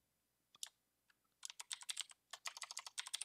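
Close, quiet typing on a computer keyboard: a single keystroke, a short pause, then two quick bursts of rapid clicking keys, with no talk.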